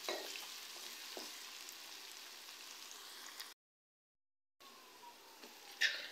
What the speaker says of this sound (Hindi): इसमें मैं अदरक लहसुन के पेस्ट को फ्राई कर रही हूँ।